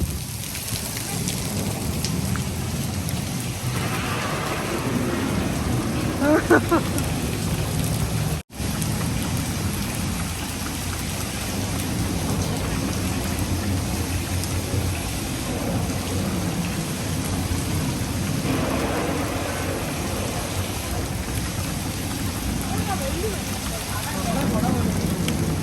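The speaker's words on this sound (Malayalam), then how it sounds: "ഇത് ഭയങ്കര മഴയായി കേട്ടോ" Heavy rain pours steadily on a street in Sharjah, a loud dense roar throughout with a low rumble of thunder, and voices talk faintly beneath it.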